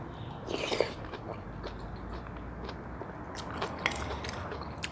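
Someone eating a home-made pork sukiyaki of sliced pork simmered in broth with Chinese cabbage and morning glory, close moist biting and chewing with a few crunchy bites over a steady background hiss, no talking.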